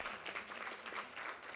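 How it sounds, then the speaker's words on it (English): An alumni panel audience claps briefly, a short burst of quiet, somewhat distant applause. "If you're a Rhode Island native, go ahead and clap it up for yourself."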